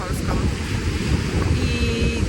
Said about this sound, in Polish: Nic nie słyszycie, bo strasznie wieje